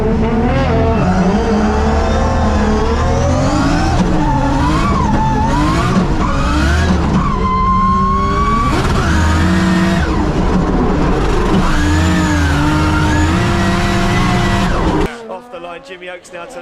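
A drift car is flicked sideways across a racing circuit at a drift competition, its tires squealing in long wavering howls over a loud revving engine, while a commentator talks throughout; the noise cuts out abruptly near the end.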